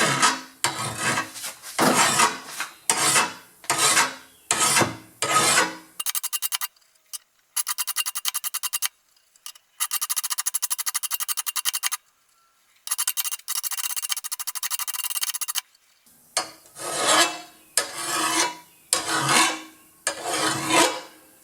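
Hand file sharpening a lawn mower blade, with a series of rhythmic gritty rasping strokes, pauses between bursts and longer sustained scraping runs in the middle, close and loud with no talking.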